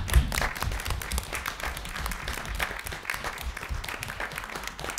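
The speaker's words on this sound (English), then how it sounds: "I would like to please ask everyone to join me in a round of applause to acknowledge the years of service of Taylor Zhang and Carol Hertz" A room at a school board meeting applauds departing board members, a steady patter of many hands clapping at moderate volume for several seconds with no talking over it.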